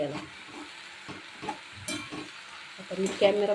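Chickpea greens fry in a pan while being stirred, giving a soft sizzle broken by repeated scraping and shuffling strokes of a spatula, with a few faint voice sounds toward the end.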